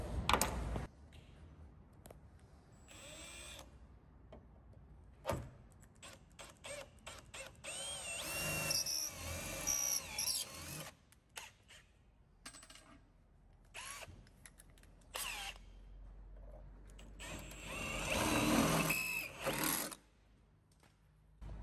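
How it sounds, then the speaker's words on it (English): A power drill whirs in several short bursts drilling a hole for a tailgate assist on a Mitsubishi Triton, with pauses and clicking mechanical sounds between them, close and fairly quiet. "So I'll go ahead and drill this hole."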